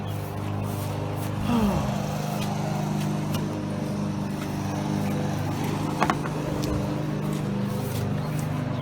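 A lawn mower running steadily in a nearby yard, a continuous droning engine hum that persists throughout, with a brief clunk partway through.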